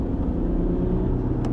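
Land Rover Discovery diesel engine pulling hard under acceleration, a steady, close, low rumbling drone heard from inside the cabin with no talk.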